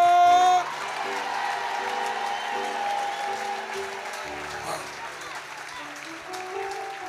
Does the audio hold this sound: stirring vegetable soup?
no